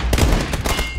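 Gunfire in PlayerUnknown's Battlegrounds: a brief, loud burst of several rapid shots in quick succession.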